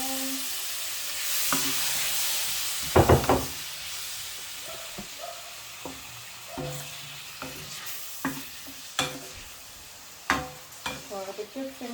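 Prawns stir-fry in a pan with vegetables and spring onion, giving a steady sizzle under sharp clanks and scrapes of a utensil stirring, close and moderately loud, with a few brief knocks throughout.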